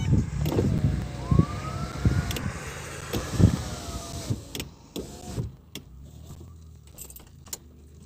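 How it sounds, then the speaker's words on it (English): A car's power window motor whines as the glass closes during a rainstorm, with keys jangling and scattered knocks around it and faint background noise. "So I'm going to have to put the window back up because the rains are starting to come again."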